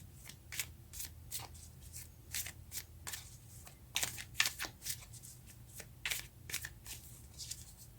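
Tarot cards are shuffled by hand in a rapid series of crisp riffling flicks and slaps, steady in rhythm over a quiet low hum, close and fairly loud, with no talking.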